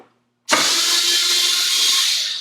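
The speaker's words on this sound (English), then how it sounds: "take a 1/4-inch nut driver and" Power driver spinning out screws on a NuTone LS100 blower housing, starting abruptly after a brief silence and holding a loud, steady whirring buzz close by.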